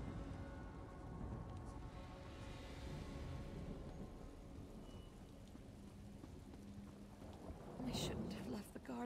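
Thunderstorm in the Elder Scrolls Online game world, with steady rain hiss and low rolling thunder rumbling throughout, and a sharper crack of thunder near the end.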